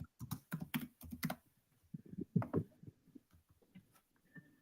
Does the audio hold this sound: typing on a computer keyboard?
yes